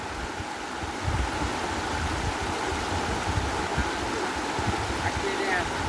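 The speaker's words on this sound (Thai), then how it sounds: "น้ำไหลครับ น้ำไหล" Water flowing steadily, a continuous broad rushing wash heard up close, with a voice talking over it in places.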